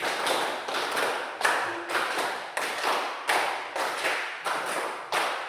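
A fifth-grade elementary classroom claps together in a steady counted rhythm, a string of about ten sharp group claps in even pulses, close and clear with no talk over them.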